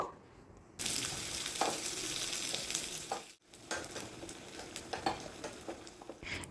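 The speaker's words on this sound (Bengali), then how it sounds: "এখন পেঁয়াজটাকে খুব ভালো করে ভেজে নেব" Chopped onion hits hot mustard oil after a brief quiet start and erupts into a loud, close sizzle. A short pause follows, then frying continues with stirring scrapes and pops, and no voices.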